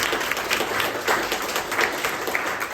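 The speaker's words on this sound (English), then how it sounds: "let's give them a round of applause, please." Audience applause for a panel at a tech meetup on AI in software development, a dense, even wash of clapping from the crowd throughout.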